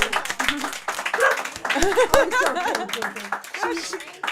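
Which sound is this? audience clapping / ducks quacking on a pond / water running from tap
audience clapping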